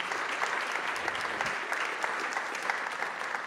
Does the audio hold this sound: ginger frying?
no